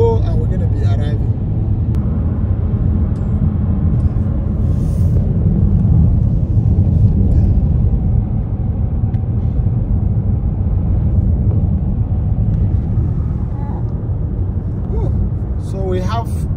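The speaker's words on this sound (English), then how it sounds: "We've been driving for almost about 3 to 4 hours now." A car drives along an Arctic road, giving a steady low engine and tyre rumble throughout, loud and constant, with occasional faint clicks and small noises over it.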